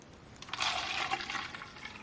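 Hot water poured from a kettle into several cups of egg dye with vinegar, a soft splashing stream of about a second and a half, faint and close, with no talking.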